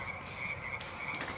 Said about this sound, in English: Frogs were doing their best to make it a serene evening